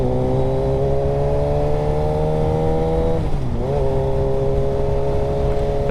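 A motorcycle engine revs loud and close at a steady pitch, dipping briefly before settling back to a constant high drone, with no talking.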